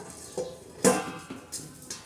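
A lid is set onto a cooking pot of sprouts curry: one sharp metallic clank near the middle, with lighter taps and clinks around it, all close.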